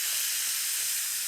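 Skirt steak sizzles in a hot pan, a bright, steady close-up hiss of searing meat and spitting fat lasting over a second, with no talking.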